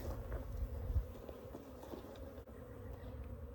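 Honeybees from a water meter hive opened for a drone comb mite check hum in a low, steady drone, faint and close, with no talk.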